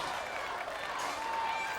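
A crowd at Gladiator Arena cheers and applauds for a competitor, a steady roar of noise throughout, with faint voices mixed in.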